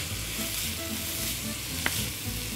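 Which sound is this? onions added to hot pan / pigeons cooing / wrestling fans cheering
onions added to hot pan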